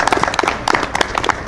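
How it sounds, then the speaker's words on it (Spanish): Audience applause for a tournament finalist at a Mexico City competition final: brisk, irregular clapping from a modest crowd, steady for a second and a half. "Por favor, un fuerte aplauso al finalista Emanuel Ramírez."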